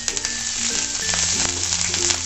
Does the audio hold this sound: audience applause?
no